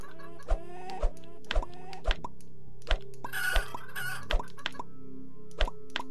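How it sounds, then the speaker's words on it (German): Chickens clucking in the game Planet Centauri, short repeated clucks mixed with regular plopping thumps at roughly half-second intervals, fairly close and clear, over a soft looping background tune without talking. "Hühner, geht doch einfach weg."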